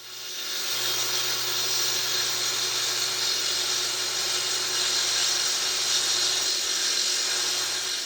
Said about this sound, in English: I rough cut the pieces with the track saw